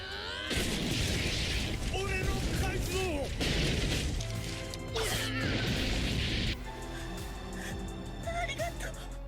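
A building comes crashing down during a One Piece anime fight as a dense run of loud smashes, booms and rumbling debris lasting several seconds, with dramatic music mixed in.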